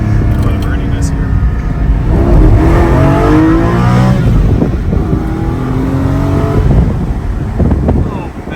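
A Porsche GT4 engine revs and roars past on a flyby, loud and close, with rising and falling exhaust tones, and people talk over it throughout.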